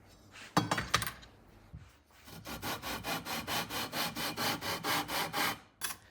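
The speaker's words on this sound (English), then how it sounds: "I could start to level and sanding the fretboard" Steady back-and-forth sanding strokes on a guitar fretboard, about a dozen in an even rhythm, rasping across wood up close after a few initial knocks and rubs.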